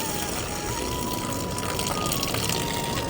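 Starch water being poured off a pot of cooked rice, a continuous gushing, splashing pour that runs steadily throughout at moderate volume.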